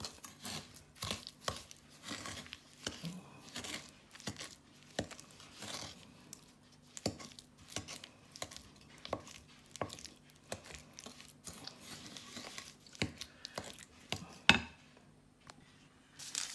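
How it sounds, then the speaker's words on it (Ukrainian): Sugar mixture for a sweet batter is rubbed by hand in a bowl until white, giving quiet, irregular gritty scrapes and soft crunching taps, close and faint with no talk. "І розтираємо. Добре, то розтираємо до білого."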